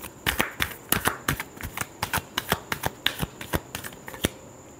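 Tarot cards riffled in a rapid shuffle, a dense run of crisp flicking snaps at an even quick rhythm, close and clear with no talk over it.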